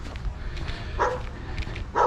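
A small female Chihuahua kept at a house lets out two sharp, nearby barks about a second apart over a low background hum.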